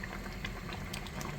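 A pot of meat tagine stew with onions and added water bubbles on a stove, a soft, continuous simmering patter with tiny pops, quiet and close, with no voices.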